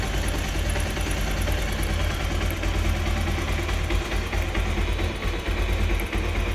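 A Bajaj Pulsar 150 DTSi motorcycle idles steadily and loudly up close, with an even, continuous engine rumble and no speech.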